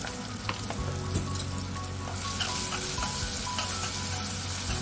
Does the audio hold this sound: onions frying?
yes